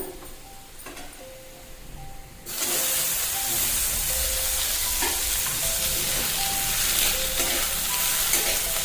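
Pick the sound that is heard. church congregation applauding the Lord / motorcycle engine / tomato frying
tomato frying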